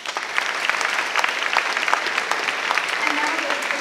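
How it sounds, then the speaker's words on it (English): Audience applause at a spring school band concert, steady crowded clapping from many hands filling the room, with a few voices faintly underneath. "So let's give them one more round of applause."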